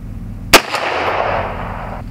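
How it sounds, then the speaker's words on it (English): A single loud, sharp rifle shot cracks close by in the South Carolina pines, followed by a brief echo and a rolling decay that fades over about a second and a half. "All right, let's shoot a group of three."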